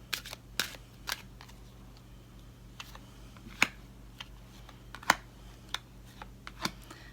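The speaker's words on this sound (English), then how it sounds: "I like shuffling them in front of you" Quiet, close-up shuffling of tarot cards during a reading, made up of scattered soft riffling clicks and light snaps at irregular intervals over a low background hum, with no voices.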